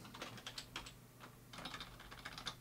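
Fingers typing on a computer keyboard in short bursts of quick, light key clicks with a brief pause in the middle, close and quiet.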